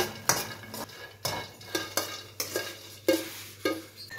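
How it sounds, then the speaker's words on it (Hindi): Fox nuts (makhana) are roasted in oil in a pan and stirred, with a rhythmic series of sharp scraping clinks from the spoon against the metal every half second or so, close and clear with no talking. "अब ये भून लेंगे फल मखाने।"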